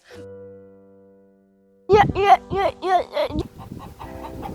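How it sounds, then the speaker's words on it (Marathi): A chicken clucks in a quick rising series of close, loud calls in hot sun, following a short low hum and a moment of silence. "एवढे उन्हात कोंबड्या फिरतात"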